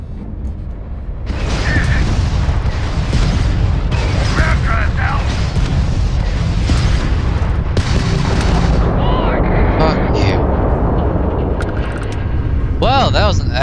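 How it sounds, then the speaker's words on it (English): A starship combat sequence in the game Starfield, with a homing missile firing at an enemy starship amid continuous loud mechanical rumble, bursts and booms. A voice talks over the din. "If you can keep the enemy ship centered on the HUD, we can lock in to fire a homing missile."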